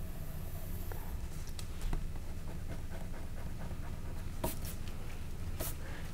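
Marker or pencil drawing a leprechaun hat on paper for a St. Patrick's Day children's art lesson: steady close scratchy strokes with short squeaks and taps, over a low background hum.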